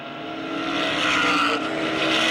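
Modified race cars at Lancaster Speedway roar past in a loud, sustained, building engine drone during a heat race, with no voices.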